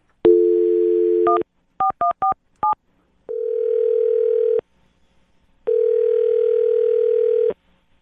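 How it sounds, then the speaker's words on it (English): Telephone dial tone, a brisk sequence of touch-tone keypad beeps, then two long ringing tones with a gap between them, clean and loud with nobody speaking. "I'm going to dial his phone number right now"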